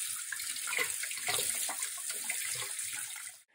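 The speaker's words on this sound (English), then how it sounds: "After you have rinsed all of your bound pieces" Tie-dyed shibori bandana pieces are rinsed under a running tap, a steady close gush of water with splashing variation that stops abruptly at the end.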